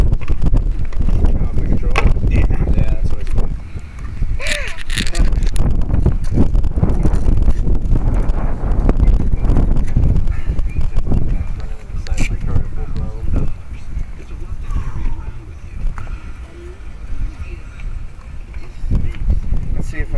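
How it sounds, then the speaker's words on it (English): Strong gusts of wind buffet the microphone outdoors, rumbling loud and uneven across the whole stretch as people talk over it. "That gust at the end right there, yeah."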